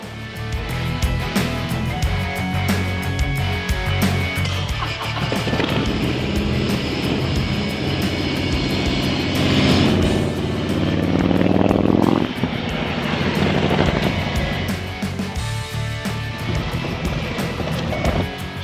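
Motorcycle fitted with an electric gear shifter on a test ride, its engine a loud, steady drone throughout with a surge in revs near the middle, heavy wind rush mixed in.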